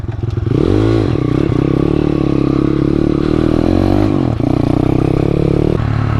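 A Jawa motorcycle converted to a Jawa-KTM, with a freshly oiled chain, rides off with its engine loud and close, revving up and changing pitch through several gear shifts and drops in throttle.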